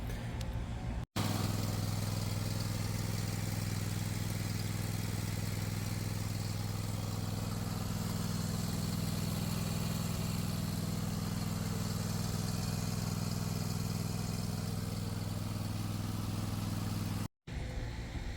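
A small lawn mower engine runs steadily at idle, a constant close-up drone with a strong low hum that holds even for the whole stretch, briefly cut out near the start and end.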